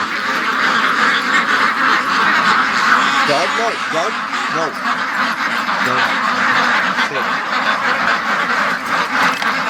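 A barn full of ducklings keeps up a loud, dense, continuous chorus of quacking, with a person talking over the din now and then.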